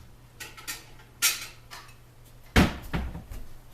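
Kitchen cupboard opening and a plate being taken out while making microwave caramel corn: scattered clicks and knocks, then a sharper clatter of crockery near the end, close and distinct over a low background hum.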